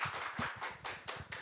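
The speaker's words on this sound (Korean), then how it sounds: "박수 부탁드립니다." A small seminar audience claps at an NGO briefing session, a handful of distinct, fairly quiet hand claps in a loose, uneven rhythm, close by with no talk.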